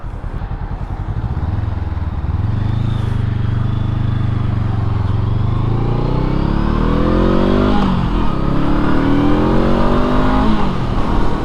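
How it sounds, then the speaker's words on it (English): A brand-new Honda SCL500 scrambler motorcycle rides in rush-hour traffic, its engine loud and close, idling low, then revving and accelerating through rising gears. "Boy, this bike is brand new."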